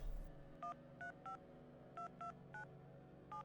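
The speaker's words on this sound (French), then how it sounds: "l'infirmière décrocha le téléphone et composa un numéro" A telephone number is dialed on a keypad, with eight short, evenly spaced touch-tone beeps, faint and clean, over a quiet background.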